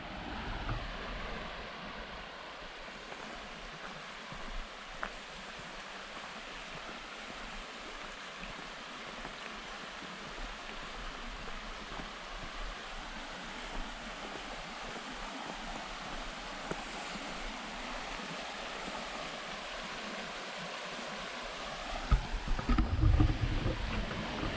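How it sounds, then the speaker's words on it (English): A stream flows over rocks on a forest hiking trail, a soft continuous rushing wash, fairly faint and steady throughout, with a brief rustle near the end. "Nothing like the sound of water going over rocks."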